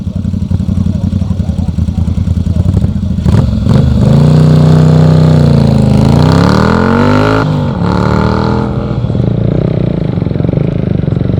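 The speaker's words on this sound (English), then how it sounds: "This is Dave Hutchison from York riding his Moto Guzzi V50 500" A Moto Guzzi V50 500 motorcycle climbs a speed hillclimb course, its mid-pitched engine revving up and down loudly and close, rising to a sustained rising howl through the middle before settling, with a steady rumble throughout.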